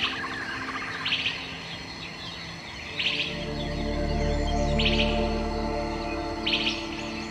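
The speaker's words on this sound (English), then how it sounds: "Birds also use their voices to communicate through singing." Short bursts of bird chirping repeat every second or two over a steady low rumble, the calls clear and fairly close.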